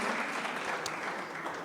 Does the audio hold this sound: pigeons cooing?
no